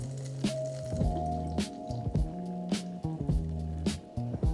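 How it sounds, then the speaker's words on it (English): A honey glaze simmers over low heat while being stirred, giving soft, irregular squishing and sticky bubbling pops up close, alone without talk. "we're gonna let this cook down for maybe 3 to 5 minutes on a low heat and continue to stir it"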